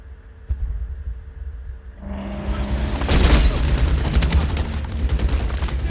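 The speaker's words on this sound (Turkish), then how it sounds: "Oğlum seni vuruyorum" Gunfire in the Medal of Honor video game: a sharp shot, then a heavy boom, then sustained rapid automatic fire with dense crackling bursts. It gets louder and stays continuous to the end.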